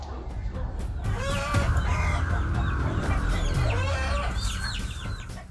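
A mother hen fights a crow, loud frantic clucking and squawking with sharp cries and scuffling, close and chaotic throughout.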